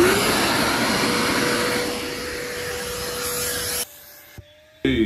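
A Hart 8-gallon, 6-horsepower shop vac roars loudly and steadily while extracting water from car seats, then cuts out abruptly near the end with brief bursts of motor noise.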